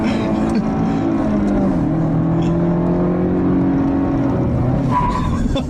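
A 2015 Cadillac ATS Coupe revs hard and strains against its traction control during an attempted burnout, with a loud, sustained engine drone that rises and shifts in pitch, heard up close from inside.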